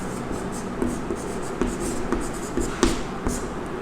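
Chalk or marker writing on a classroom board during a Hindi maths lesson on positive odd integers, a steady scratchy scraping with a few sharper taps as strokes begin, close and moderately loud with no talking.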